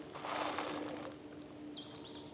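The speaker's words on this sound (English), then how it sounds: "I hear a water thrush calling." A water thrush calls from near a marshy forest area, its bright slurred whistles faint and somewhat distant, rising over a low steady background hum.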